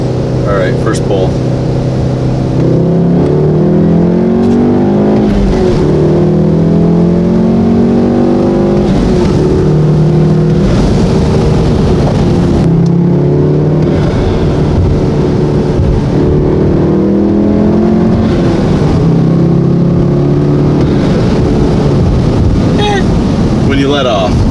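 A VW Golf R with a CTS turbo inlet pulls hard under acceleration, its engine rising and falling through repeated gear-change sweeps, loud and continuous with wind noise throughout.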